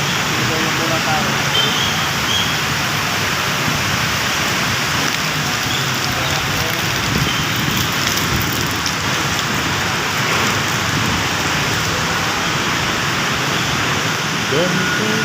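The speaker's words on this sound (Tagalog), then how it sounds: "Malakas ang ulan" Heavy rain pours down steadily at a station, a dense continuous hiss of drops drumming on surfaces, loud and unbroken for the whole stretch.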